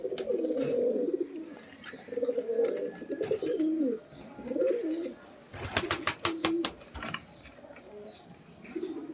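Pigeons coo repeatedly at close range in low, rolling bursts, with a stretch of sharp flapping or clattering noises partway through and faint background sounds.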